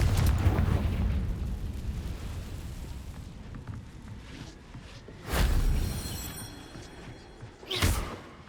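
Fiery Confringo spell blasts in the Hogwarts Legacy video game: two loud, sharp booming bursts a few seconds apart over a low ambient rumble, with no talking.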